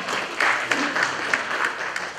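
A crowd claps steadily in a continuous wash of applause, moderately loud, with a few sharper claps standing out.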